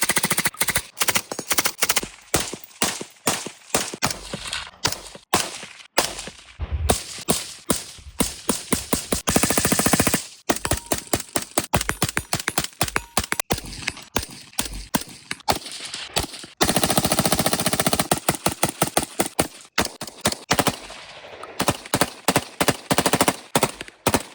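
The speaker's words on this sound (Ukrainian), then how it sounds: "Ми стріляли з різних довжин стволів" Gunfire from rifles with 3D-printed suppressors, fired from barrels of several lengths, cracks in rapid, sharp, loud volleys. Fast strings of shots follow one another with brief pauses, close and dominant, with no talk.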